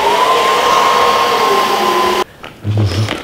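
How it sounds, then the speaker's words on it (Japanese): A hair dryer blows hot air to dry freshly mixed paint on a half-painted panel during color matching, a loud steady whine with a high tone that cuts off sharply after two seconds, followed by a short murmur of voices and handling noise. "よし、ドライヤーだ。"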